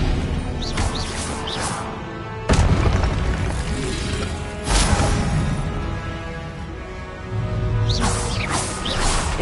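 Confringo spell explosions in Hogwarts Legacy: several heavy booms a few seconds apart, with whooshing sweeps and a crashing rumble between them, and no voices.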